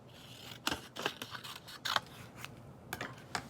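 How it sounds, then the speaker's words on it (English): Scissors snipping paper penguin wings to trim them smaller, a few sharp close cuts in quick irregular succession over quiet room tone, with no voices. "you just cut off the bottom a little bit"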